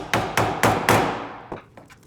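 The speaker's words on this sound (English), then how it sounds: "I made these holes with an awl and a mallet." A mallet strikes an awl four times in a steady rhythm to punch holes through mussel shells, sharp close knocks, followed by a few lighter, fainter taps.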